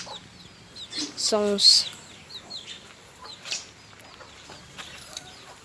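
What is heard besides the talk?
chickens clucking in a coop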